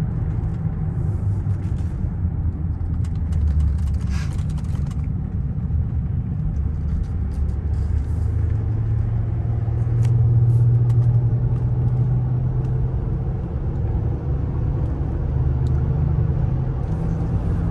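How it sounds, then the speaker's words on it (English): A 2010 Lincoln MKX AWD SUV cruising on the freeway gives a steady low cabin rumble of road and engine noise, continuous and even with a slight swell midway, no talking. "we're continuing our drive on this Lincoln MKX now. We're going to go out on the freeway for a few miles."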